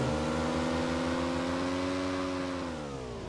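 A motorbike arriving in the video game PUBG Mobile, its engine humming and whirring steadily nearby before the pitch drops as it slows toward the end.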